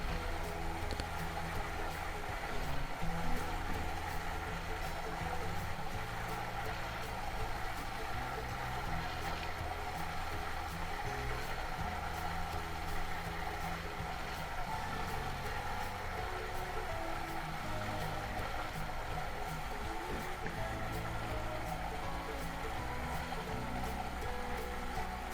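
A Whirlpool WFW75H front load washer fills through its cold water valve into the detergent dispenser, giving a steady, continuous rushing hiss with a low hum underneath that stays level throughout.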